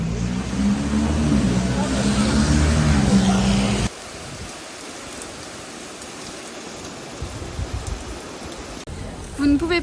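Rain falls on a Saturday outdoor flea market in Paris, a steady broadband patter and hiss that runs through the whole stretch, louder at first under other noise and then thinner, with a few brief clatters near the end.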